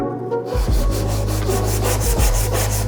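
Rhythmic back-and-forth scraping of sandpaper on hardened car body filler, loud and close, repeating in even strokes.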